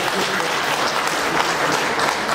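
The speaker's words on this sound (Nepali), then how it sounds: "एकचोटि उहाँलाई ताली दिन मैले अनुरोध गर्छु" Sustained applause from a convention audience at a national gathering, a dense, even wash of many hands clapping together at close range with no breaks.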